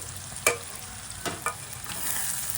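Brinjal and mango pieces are stirred in a sizzling pan, with steady frying hiss under a few distinct scraping stirs of the spoon.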